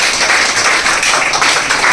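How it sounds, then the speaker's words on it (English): Classmates in a fourth-grade classroom clap for a student, a dense burst of hand claps filling a couple of seconds, close and loud. "Clap for him."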